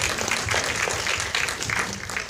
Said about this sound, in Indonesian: Tepuk tangan dulu dong buat Syakil.